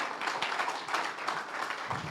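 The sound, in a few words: audience applause for the moderator taking the stage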